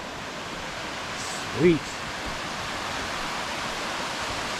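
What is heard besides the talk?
waterfall beside a Smoky Mountains trail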